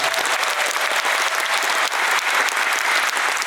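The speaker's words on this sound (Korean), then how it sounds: "여러분이 큰 박수 다시 한 번만 부탁드리겠습니다" Dense, steady applause from a concert audience at a celebration concert for the launch of Goyang Special City, many hands clapping loudly and evenly throughout with no pauses.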